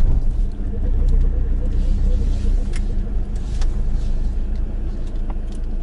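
A truck rumbles low and steady at close range as it's maneuvered toward loading gate three, its engine droning with faint knocks and clatter, no clear voices above it.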